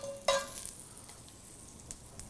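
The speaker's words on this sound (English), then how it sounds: "That's going to sizzle there." Pork hitting a hot oiled pan in a kitchen cooking show gives a sharp sizzle at the start, then a faint steady frying hiss with no talking.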